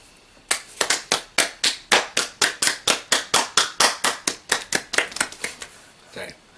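Hands clap in a steady run of about twenty sharp, close claps lasting several seconds, then one softer final clap, with no talk over them.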